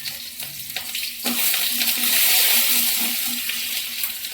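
Bay leaf, cumin seeds and green chilli dropped into hot oil in a home kitchen, giving a steady, close crackling sizzle that swells and holds as a continuous hiss.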